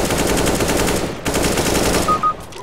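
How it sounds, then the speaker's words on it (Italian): Sustained automatic gunfire from Counter-Strike: Global Offensive, a dense rapid burst running almost the whole time with a brief break partway, loud and close with no talking. "Spara a un suo compagno e lo uccide"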